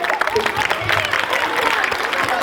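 Applause from workshop participants after a Bharatanatyam dance demonstration, a brief, dense burst of clapping heard close, with voices mixed in underneath.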